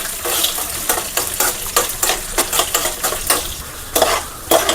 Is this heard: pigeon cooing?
no